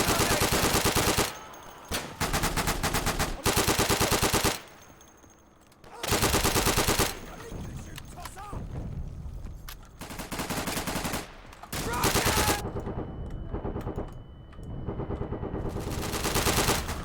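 Gunfire in the Day of Infamy video game: loud bursts of machine-gun and rifle fire come in repeated stretches separated by brief lulls, with faint voices.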